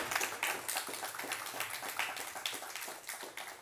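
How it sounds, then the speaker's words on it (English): Audience applause for panelists at the end of a politics discussion, a faint, steady patter of many hands clapping for a few seconds. "If you could all join me in giving a round of applause to our panelists for their great discussion today"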